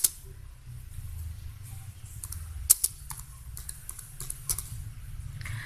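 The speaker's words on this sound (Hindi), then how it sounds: "ये अब आप लोग देख सकते हैं कि ईजीली यहाँ पे टाइपिंग भी हो रही है।" Fingers type on a computer keyboard, giving quick, light clicking keystrokes in irregular bursts with a few sharper taps, close by over a steady low room hum.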